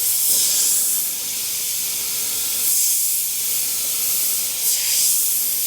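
An Iwata airbrush with a Mac valve sprays paint in a steady, close, high hiss, with a few sputtering bursts where the paint spits unevenly.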